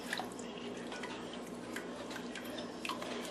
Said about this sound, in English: Just going to keep adding and keep stirring.